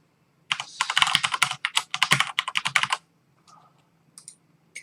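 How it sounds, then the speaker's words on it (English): Fast typing on a computer keyboard, a close, crisp burst of clicking keystrokes for a couple of seconds, then a pause and a few scattered taps, with no talking. "And then I'm just gonna type in my address"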